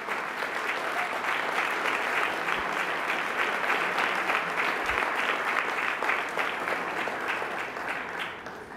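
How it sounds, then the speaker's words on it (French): A banquet hall audience gives sustained applause at an induction ceremony, dense, even clapping holding steady for several seconds without talk. "ça vaut une bonne main d'applaudissements"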